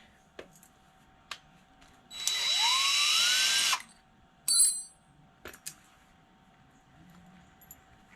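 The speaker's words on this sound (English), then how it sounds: "Gotta drill it out bigger, I think." A power drill whirs for about two seconds, enlarging a bolt hole for a truck camper generator mount, pitch rising as it bites in, surrounded by scattered clicks and clanks of metal in a quiet space.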